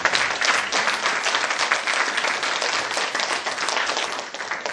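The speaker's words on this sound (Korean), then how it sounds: "우리 새 후보자에게 다시 한번 뜨거운 박수를 보내드립니다" Audience applause at a local council by-election candidate debate in Yangsan, a dense crowd clapping steadily at moderate volume, strongest at the start and easing slightly toward the end.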